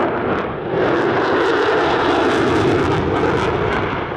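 An F-35 fighter jet flies a sustained turn at the Australian International Airshow 2023, a loud, broad, roaring engine rumble that swells and holds steady.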